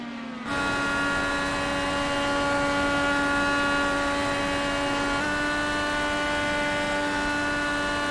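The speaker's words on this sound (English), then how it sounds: "You can hear Scott just completely in the throttle there, but working the gears, trying to see what he can do" A racing motorcycle screams at full throttle, a steady, loud, high engine whine that holds for several seconds and shifts pitch briefly as the rider works through the gears.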